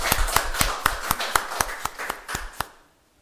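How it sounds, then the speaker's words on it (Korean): A church congregation gives a short welcoming round of applause at a Sunday service, about a dozen distinct, evenly spaced claps that fade out, heard close and without talk. "그리스도의 사랑으로 영접하는 환영의 박수"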